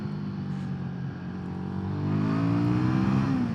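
A Royal Enfield Guerrilla 450 motorcycle's single-cylinder engine revving, a throaty drone that climbs steadily in pitch as the throttle opens, loud and close with no talk.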